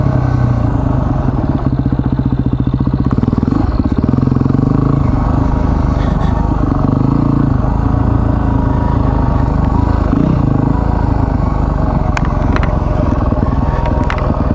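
Yamaha WR250R dirt bike ridden along a rutted trail in Warro National Park, Queensland; the engine drones loud and close without a break, its pitch rising and falling with the throttle.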